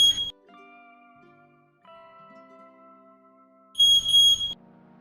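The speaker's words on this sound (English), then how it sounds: "The repeater will start emitting a double beep every 2 seconds." A HomeLink repeater beeping in short bursts of high electronic tones, a burst at the start and another about four seconds later, with softer sustained tones ringing between them in a quiet room.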